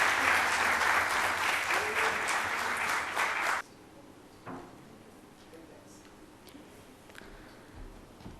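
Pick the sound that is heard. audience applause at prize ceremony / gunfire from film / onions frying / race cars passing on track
audience applause at prize ceremony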